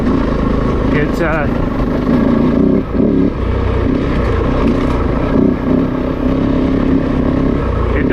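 A Kove 450 Rally dual sport motorcycle idles and revs nearby, its single engine droning steadily with brief surges and dips while someone talks over it.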